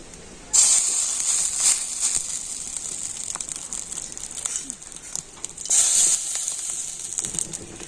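Fish roe fritters frying in hot oil, a bright steady sizzle and hiss that swells loudly as each small dollop of roe batter goes into the pan, then settles to a softer crackle.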